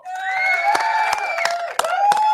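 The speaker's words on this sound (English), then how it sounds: "Round of applause to her." An audience cheers and applauds together: loud whooping, sustained voices rise over scattered sharp claps in a short, lively burst.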